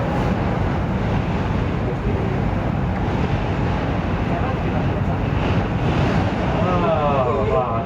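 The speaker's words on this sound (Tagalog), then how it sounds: "Ah, hangin ah." Strong wind blows outdoors among trees, a dense, unbroken roar with heavy buffeting against the microphone, loud and steady throughout.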